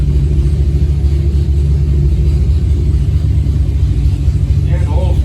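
A Mopar 440 V8 sitting in its car roars through a pull on a chassis dyno while its oil is still cold, a loud, deep, steady engine rumble that holds throughout.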